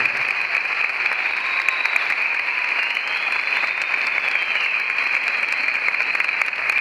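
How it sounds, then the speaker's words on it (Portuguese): Sustained applause from a crowd at a medical graduation ceremony, a dense, even clapping that holds steady for several seconds without pause. "Recebam os nossos aplausos como forma de expressarmos diante de todos a gratidão"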